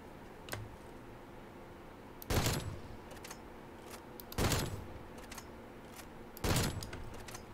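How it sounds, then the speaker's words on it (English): Gunfire in Call of Duty zombies: three distinct loud bursts of shots spaced about two seconds apart, with a fainter crack earlier, over quiet game background. "I gotta get up on some zombies and shoot"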